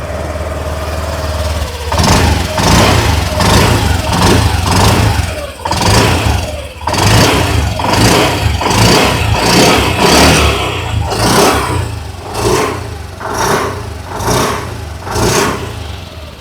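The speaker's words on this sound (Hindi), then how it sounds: "लेते हैं इस स्कूटर की एग्जॉस्ट नोट।" A 2025 Honda Activa 125 25th Anniversary Special Edition scooter idles and then revs repeatedly, its exhaust rising and falling in loud, close bursts with short pauses between them.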